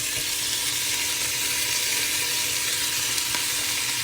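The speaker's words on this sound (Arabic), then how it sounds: "راح نقلبهم سوا. راح اضيف العدس بعد ما غسلته طبعا صفيته." Washed, drained lentils stirred into a hot pot for lentil soup, a continuous loud sizzle and frying hiss with faint movement underneath.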